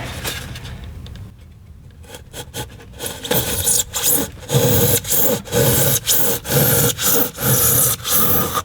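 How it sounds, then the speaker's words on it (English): Drywall saws with coarse and fine teeth cutting an outline in drywall during electrical rough-in, a steady run of loud rasping back-and-forth strokes after a quieter start, close up with no talk. "That's the fine thread. This one kind of works better."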